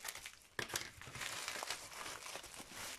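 Packaging of a paint-by-number kit being opened, with soft crinkling and a sharp tearing snap, followed by quiet continuous rustling of plastic and paper close by.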